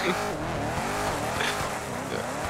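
Car tires squeal and skid continuously as a vehicle slides during a sideshow in the FiveM video game, with engine revving and wavering pitch over the whole stretch.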